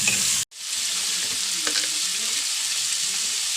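Chopped garlic and ginger sautéing in a pan, a steady bright sizzle and crackle of frying with faint stirring scrapes, close and continuous after a brief cut near the start.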